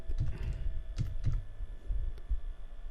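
Keys on a computer keyboard clatter as a Linux terminal command is typed, short uneven bursts of clicks with brief pauses between them, close and fairly quiet.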